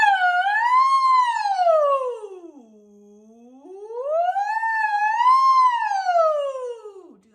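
A voice imitates a siren as a choir warm-up, sliding smoothly up high, dipping low, then rising and falling again in two long sweeping wails.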